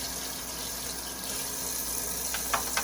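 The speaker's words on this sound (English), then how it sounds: "when I wash it, I make sure water is not just running through it freely" Tap water runs steadily over Elvie breast pump parts at a sink during washing, a close, even hiss with a few brief splashy bursts near the end and no talking.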